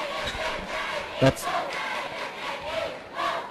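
Crowd of Japanese teams cheering at a women's ultimate frisbee world championship final, a steady roar of voices with one sharp, loud shout burst partway through and another swell near the end.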